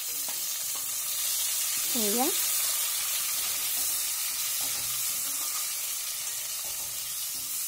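Chopped tomato with ginger garlic paste frying in a pan, a steady bright sizzle under occasional scraping stirs, with a brief voice speaking over it.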